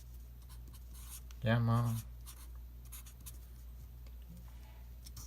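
Pen scratches faintly across a writing surface while a physics equation is being derived, soft intermittent strokes under a quiet room tone, with a voice cutting in briefly partway through.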